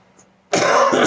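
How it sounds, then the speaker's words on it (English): A man coughs and clears his throat once, loud and close, a harsh rasping burst after a near-silent moment. "Well, I've coughed enough."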